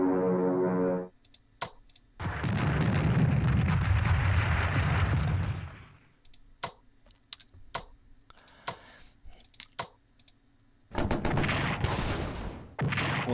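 Artillery bombardment in a World War I strategy game sounds as a long, rumbling blast of explosions, then scattered sharp clicks and thuds, and finally a second loud burst of explosions. No one speaks.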